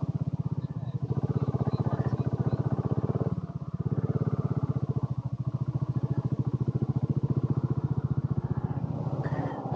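A BSA Goldstar 650 motorcycle thumps along steadily as it is ridden, its engine pulsing in an even rhythm throughout with a short dip partway through.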